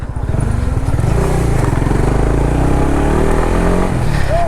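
Exhaust note of a 2021 Honda CBR 150R with dual-channel ABS, a loud, steady, close-up engine drone with throttling and a rising pitch sweep near the end.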